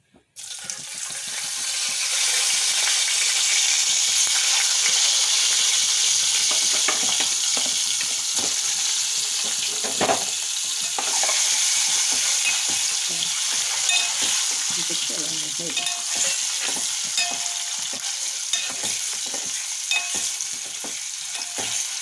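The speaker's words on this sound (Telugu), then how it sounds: "మనం ఎగ్స్ని ఫ్రై చేద్దాం" Peeled boiled eggs fry in a turmeric-spiced pan for an egg and prawn curry, producing a loud, continuous crackling sizzle that runs throughout with occasional stirring movements and no speech.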